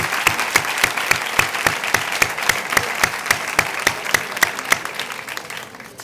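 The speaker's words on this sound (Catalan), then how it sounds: "Enhorabona a totes i un fort aplaudiment." A graduation ceremony audience at a school in Vila-real applauds loudly, with a strong, regular rhythm of sharp claps running through the steady clapping before it tapers off at the end.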